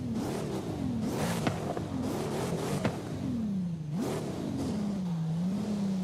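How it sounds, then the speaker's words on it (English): A car engine in Forza Horizon 5 revs repeatedly in sharp bursts, each climb dropping off instantly with no hang, loud and close with no voices over it. "There's no rev hang. RPMs drop instantly."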